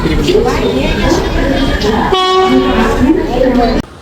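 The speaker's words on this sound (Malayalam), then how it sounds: "ഇപ്പം ഞാൻ അടുത്ത ട്രെയിൻ വരുന്നുണ്ട്" A train pulling into a station on a journey from Gokarna toward Goa, with a sustained horn blast partway through over rumbling rail noise and nearby chatter.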